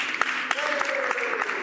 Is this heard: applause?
yes